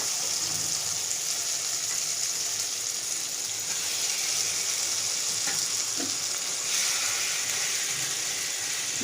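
Mutton keema stir-fried in a pan while stuffing for keema kachori is prepared, a steady loud sizzle with scraping stirring strokes running throughout, no talking.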